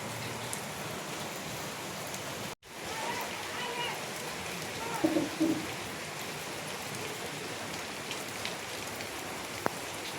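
Steady rain hisses down on surfaces nearby, a constant even patter with a brief cut partway through.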